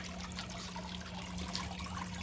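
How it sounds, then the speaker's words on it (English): Water trickles steadily in a small garden nook attached to a house, a soft continuous splashing like a small fountain, close and fairly quiet with no talk. "there's the water"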